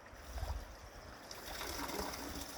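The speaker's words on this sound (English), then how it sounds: "you can hear the water running here" The Orange River runs in flood at peak flow near Kakamas, a faint, steady outdoor rush of moving water with low rumbling wind-like noise throughout.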